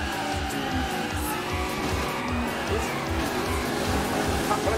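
An arcade racing game, Initial D Arcade Stage 7 AAX, with a car striking a barrier amid a steady droning engine, a pulsing low rhythm and tire noise; the crash is not distinct from the ongoing race sound.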